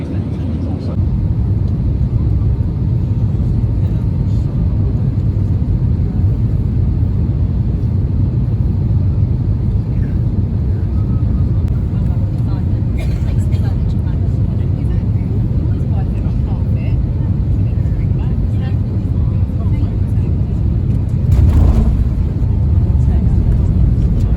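Airplane cabin noise on approach to landing, a loud, steady low engine and airflow rumble that continues without a break, with a brief thump near the end.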